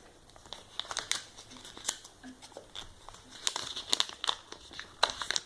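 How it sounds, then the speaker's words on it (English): Paper crinkles and creases in a quick, close series of soft rustles and sharp crisp snaps as a sheet is folded into an origami frog, fairly quiet, with faint talk. "fold this one over so you sort of hide it, and then turn it over, do the same, fold it down just like this"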